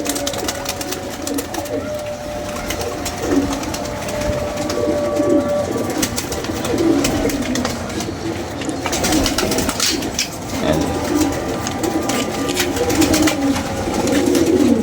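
Pigeons kept on a city rooftop coo repeatedly in low, rolling calls under steady background noise, while people talk nearby.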